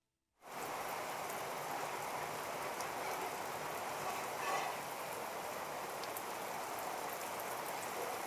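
Heavy rain pours down steadily during a downpour in Andhra Pradesh, a dense, loud, unbroken hiss of drops on surfaces that starts abruptly and continues alone without any talk.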